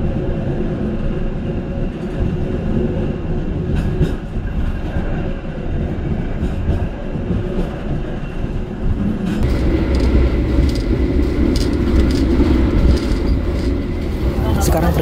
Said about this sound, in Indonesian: kereta api Argo Bromo Anggrek akan mengakhiri perjalanannya di Surabaya